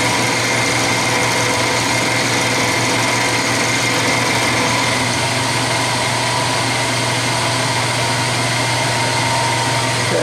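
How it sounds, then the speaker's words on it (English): A machine tool makes a spring pass cut on a lathe or mill. It gives a steady, close mechanical whine with a constant hum beneath it, unbroken throughout. "Take the chips out and do a spring pass on the return."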